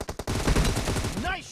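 Short burst of rapid gunfire in PUBG Mobile, a quick volley of close, sharp shots that gives way to sustained loud clatter and a rising whine near the end.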